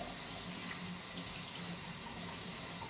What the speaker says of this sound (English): rinse the soap from your hand with the water from the faucet